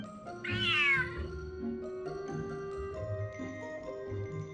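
A cat gives one clear, rising meow near the start, close and loud, followed by soft background music.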